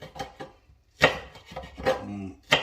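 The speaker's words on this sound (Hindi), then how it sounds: "बारीक से मिर्चें काट लें" Green chillies being chopped finely on a board for egg curry: a few separate knife strikes and short bursts of cutting, close and moderately loud, with no one talking.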